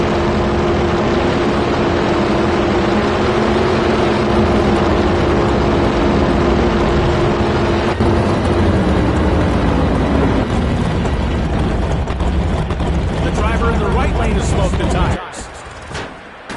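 Drag racing engines in a PS4 racing game roar loudly and continuously for about fifteen seconds, a dense, thundering blast with a rising tonal edge that cuts off abruptly near the end.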